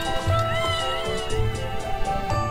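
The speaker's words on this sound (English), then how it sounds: "cat noises." Cat meows in a high school video game, several drawn-out calls over game music, fairly loud and near with no talking.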